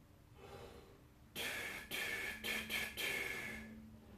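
Tongued breaths blown as an articulation exercise, five short airy bursts in a ta-ta-ti-ti-ta rhythm, the last one held longer, fairly close and alone over faint room hiss.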